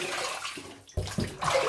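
Running tap water rinses a razor during a wet shave, a short close splashing stream that briefly drops away and then resumes with choppy bursts as the blade passes through.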